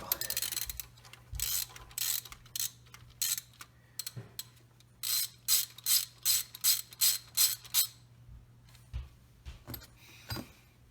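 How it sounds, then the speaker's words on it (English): Ratchet with a 14 mm socket turning the tensioner pulley bolt on a 300ZX Turbo engine during timing belt work, giving a rapid series of close clicking bursts in steady rhythm, each lasting a moment, with short pauses between. "14 mil socket on the end here of the tensioner pulley."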